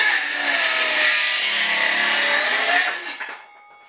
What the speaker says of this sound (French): c'est quoi une scie circulaire?